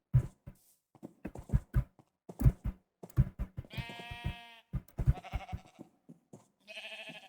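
Sheep in the Minecraft video game bleat in short, close calls, with a couple of longer wavering bleats. They are mixed with soft footstep and hoof-like clicks.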